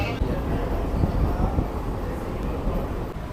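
An AC local train from Sealdah to Ranaghat rumbles steadily along the rails approaching Ranaghat Junction, a continuous loud low roar with wind noise and no break.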